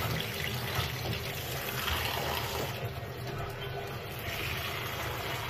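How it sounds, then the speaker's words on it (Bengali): Malabar spinach leaves are washed in water, a constant close rush and splash of running, sloshing water that fills the whole stretch, with no talking. "এখন খুব ভালোভাবে ধুয়ে নেব, কারণ শাকে অনেক পুরনো ময়লা আছে।"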